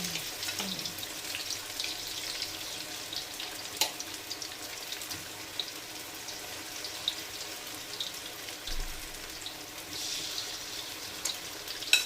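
Shrimp fry in hot oil with a steady, fairly quiet sizzle and scattered small crackles and pops, with no talking.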